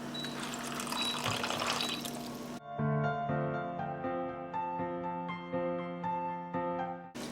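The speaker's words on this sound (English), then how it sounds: "at this point, we're supposed to add water to it." Water pours and splashes into a cooking pot for Persian-style spaghetti for a couple of seconds, followed by gentle music.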